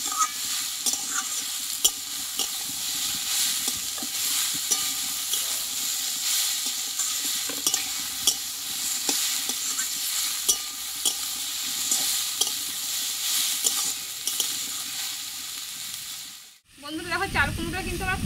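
Ash gourd (chal kumro) and thick-cut potatoes sizzle steadily in a little oil while a utensil scrapes and stirs them at a fairly regular pace, close by. The frying drops out briefly near the end, and faint voice-like sounds follow.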